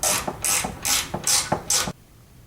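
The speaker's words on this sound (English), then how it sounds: "grab a 1/4-inch hex key to extract this bolt here, and you will be able to remove the head roller" Hex key turning a bolt on a treadmill belt deck head roller, five quick ratcheting clicks in an even rhythm, close and distinct, then quiet.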